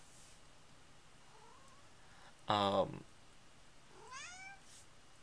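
A cat meows twice: a short, faint rising mew followed by a clearer, longer, drawn-out meow, both fairly quiet against a low background, with a brief burst of a voice between them.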